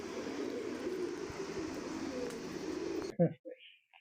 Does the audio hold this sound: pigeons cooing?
yes